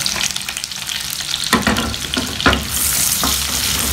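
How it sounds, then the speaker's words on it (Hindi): Sliced onions hit hot oil in a pan for an egg shahi curry and are stirred. A few scraping clatters are followed by a rising, steady sizzle, close and without speech. "हम करी के लिए हम ऑनियन डाल लेते हैं"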